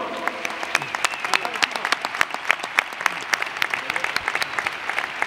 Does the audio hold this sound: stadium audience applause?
yes